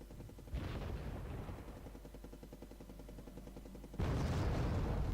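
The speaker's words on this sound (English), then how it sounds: "Some artillery fire comes in" Artillery fire in a war video game, with heavy booming impacts and a rumbling barrage that swells abruptly near the end, loud and continuous.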